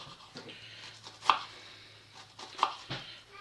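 Knife chopping onion into tiny pieces on a board: a handful of sharp, close thuds at uneven intervals, two strikes clearly louder than the rest, no speech.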